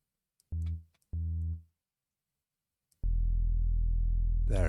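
Dub bass synth patch built in NI Razor inside Ableton 12: two short, deep harmonic bass notes, then a loud sustained low bass tone with bright upper harmonics swelling toward the end.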